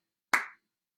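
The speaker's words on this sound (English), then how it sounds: "And then you clap." A single sharp hand clap, close and crisp, in otherwise silence.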